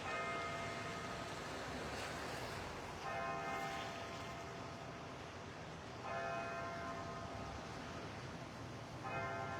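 A distant church bell strikes the hour ten times at regular intervals about three seconds apart, resonant, each toll lingering over a steady low background hum.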